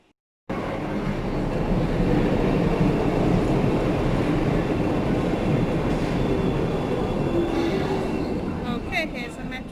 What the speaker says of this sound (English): Here's a metro train.